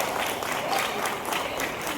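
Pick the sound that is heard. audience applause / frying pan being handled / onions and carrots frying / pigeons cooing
audience applause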